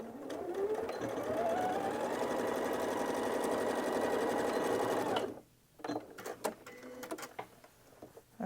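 A sewing machine stitching jelly roll fabric strips on the diagonal, running steadily with a fast whirring needle rhythm for about five seconds before stopping, followed by faint handling clicks.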